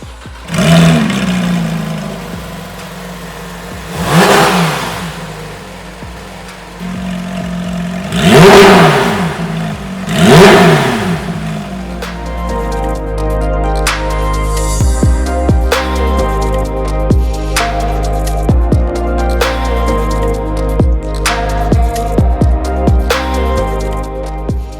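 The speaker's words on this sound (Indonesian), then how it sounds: "Suara tadi itu berasal dari mesin 4000 cc, 6 silinder, non turbo." Porsche GT3 RS 2016 with a non-turbo 4.0-litre six-cylinder engine revving hard, several loud sharp throttle blips rising and falling, then a steady high idle broken by quick rev spikes, close and alone.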